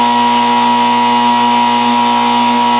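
Magnetic base drill with a 1,500-pound permanent magnet, its head vibrating at maximum during adjustment, a loud, steady tonal hum throughout with no talk.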